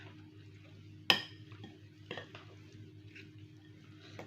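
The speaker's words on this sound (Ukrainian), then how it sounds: "Я це перемішую" A grated potato mixture is stirred in a bowl, opening with one sharp utensil clank against the side, followed by quieter scraping strokes and soft knocks, close up and without speech.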